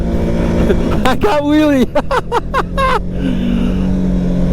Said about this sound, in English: now the engine power test on a very steep slope